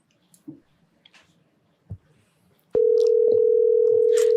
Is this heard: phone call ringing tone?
yes